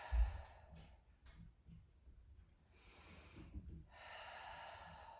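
Quiet, slow breathing from a person holding a gentle shoulder-to-knee stretch during a beginner workout: a deep inhale followed by a long, soft exhale, faint and close.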